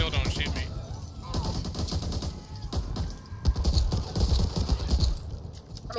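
Gunfire in the zombie shooter Back 4 Blood, played on Veteran difficulty: rapid overlapping shots and bursts, close and busy throughout, with voices talking over the fight.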